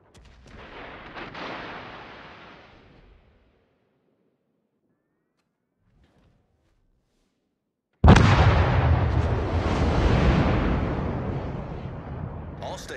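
In the naval video game World of Warships, heavy ship guns boom with rumbling blasts: one fading roar, then several seconds of near silence, then a louder, sustained barrage.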